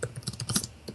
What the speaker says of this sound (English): I'm typing that right now